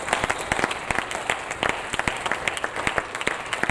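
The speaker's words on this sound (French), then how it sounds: "Est-ce qu'on peut acclamer le Seigneur?" A church congregation claps in praise, steady rhythmic applause from many hands filling the room at moderate volume, with no voices standing out.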